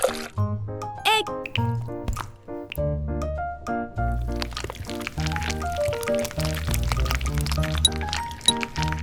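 An egg is cracked for miniature cake batter, a brief sharp crack followed by a soft wet pour, heard over background music.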